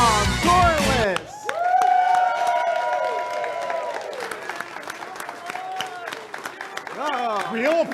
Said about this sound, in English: Real applause.